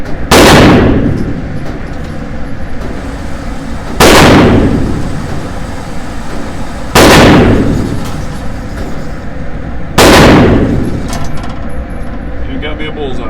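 CZ P-10F pistol firing at a shooting range: four loud, sharp shots spaced about three seconds apart, each followed by a decaying echo over steady background noise.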